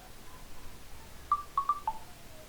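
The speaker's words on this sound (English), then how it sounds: "Let me first switch off some notifications." Computer notifications sound as a quick cluster of four short, clear beeps near the end, preceded by fainter tones, over a quiet room with no talk.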